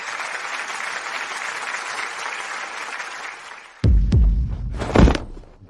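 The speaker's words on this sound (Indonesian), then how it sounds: "Mari kita berikan tepuk tangan meriah" Applause for an award winner going up on stage at a ceremony, a steady wash of clapping for several seconds, then cut off by a couple of heavy thumps.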